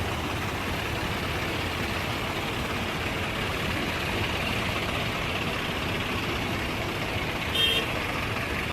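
Tractor engines idling at a Haryana farmers' tractor protest, a steady, dense rumble of several engines running together with a brief horn-like toot near the end, no talking.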